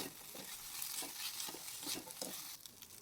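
Quiet sizzling of drumstick (moringa) leaves sautéing in a pan, with soft intermittent stirring scrapes at an uneven rhythm.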